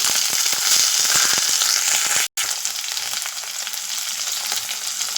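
Curry leaves, green chillies and shallots frying in oil, a loud crackling sizzle with sharp pops early on. It briefly cuts out, then settles into a softer, steady hiss.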